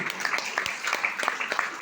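An audience at a hotel event applauds, a continuous run of quick, crisp claps from many hands at a moderate distance, fairly soft overall and steady for the full two seconds.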